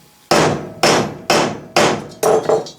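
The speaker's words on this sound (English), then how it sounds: "And I gave it several whacks, and the slug is down there in the lead" Heavy hammer blows drive a punch through sheet metal resting on a cast lead plate: five loud, evenly spaced, close whacks, each with a short ringing decay.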